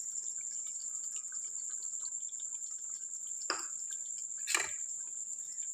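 Cream is poured into a Mughlai chicken handi, making a couple of soft, brief liquid plops over a faint, steady background tone.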